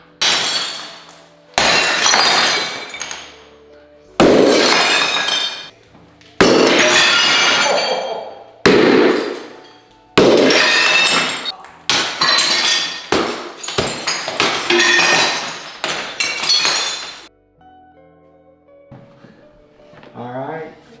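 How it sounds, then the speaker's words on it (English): A glass block wall is smashed during home renovation demolition, with a series of loud, repeated crashing and shattering impacts, each followed by tinkling debris, before a quieter tail at the end. "Now he's knocking down some glass block."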